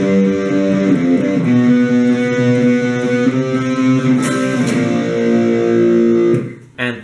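Distorted electric guitar plays the intro riff of a song, with sustained overdriven chords ringing loud and steady for about six seconds before a brief cutoff and a final strum, no voices.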